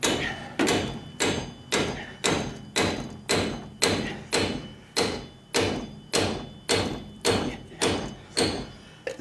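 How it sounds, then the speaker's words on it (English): Steel hammer striking a cold chisel to drive out a seized wheel bearing from a 2006-2009 Pontiac Torrent hub, about fifteen loud, close, evenly spaced metallic blows in steady rhythm with no talking. "I've got another smaller cold chisel, and I'm going to see if I can get it in here"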